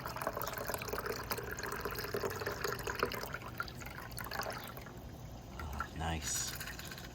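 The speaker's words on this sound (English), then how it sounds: "then we pour it into our fancy glass." A shaken margarita of amaretto and tequila pours from a shaker into a glass, a steady liquid splash over a few seconds with a short trickle toward the end, while someone talks over it.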